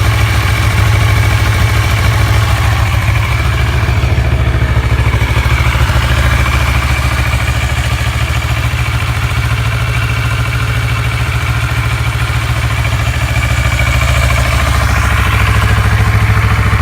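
A Kawasaki ER6N motorcycle engine idles steadily up close, a low, even throbbing rumble that continues unchanged throughout.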